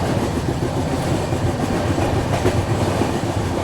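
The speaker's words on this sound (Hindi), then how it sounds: "तो यहाँ पे अपनी train Dadar western railway station को स्किप करते हुए" The Ahmedabad–Mumbai double decker express train passes Dadar station at speed, giving a loud, continuous rumble with steady clickety-clack from the wheels over the rails and no voices.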